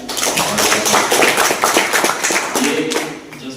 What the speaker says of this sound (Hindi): इनके लिए मैं चाहता हूँ ताली बजाइए आप लोग